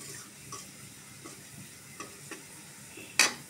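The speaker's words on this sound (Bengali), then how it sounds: "এখন যত আর কি ব্রাউন কালার করে ভাজলে" Onions with turmeric frying in a pan, a steady close sizzle with scattered stirring scrapes and one sharp clink of utensil on metal near the end.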